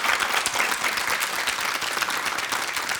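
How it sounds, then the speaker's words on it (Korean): A studio audience on a morning talk show applauds in a dense, steady wash of clapping that holds loud and even for the whole stretch. "다시 한번 박수로 감사합니다."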